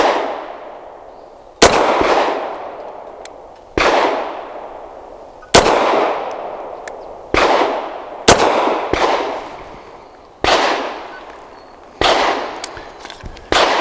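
American Precision Firearms Arsenal Strike One pistol firing Federal 147 grain HST rounds, eight sharp loud shots at irregular intervals, each followed by a long echoing decay outdoors, with no voices.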